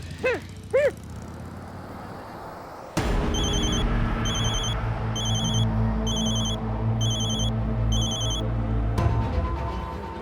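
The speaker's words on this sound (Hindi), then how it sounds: "जरूर ये उस ब्लैकमेलर का फोन होगा।" After a few brief sounds, a telephone starts ringing in repeated evenly spaced bursts over a low steady hum, then stops abruptly near the end.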